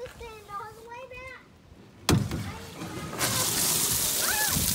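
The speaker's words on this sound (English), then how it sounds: "Open the valve up and drain all the water out." Water bursts from an opened drain valve in a shop being winterized, a sudden gush that settles into a steady loud hissing rush; someone talks and sings beforehand and briefly over the flow.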